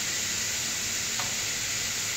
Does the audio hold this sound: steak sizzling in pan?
yes